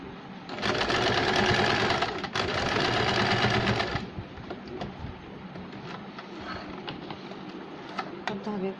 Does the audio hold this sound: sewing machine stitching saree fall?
yes